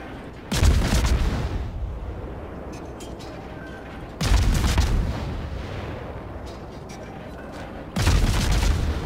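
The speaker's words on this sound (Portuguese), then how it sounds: "eu continuo atirando" Warship main guns firing in the naval video game World of Warships, three heavy booming salvos about four seconds apart, each followed by a long rumbling roar that fades slowly, with no talking.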